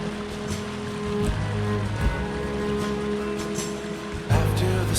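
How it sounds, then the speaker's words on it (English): Little waterfalls at a camping spot splash and trickle in a continuous, close rushing wash of water, with a few brief louder splashes and a low hum underneath. "A magic little spot filled with beautiful little waterfalls."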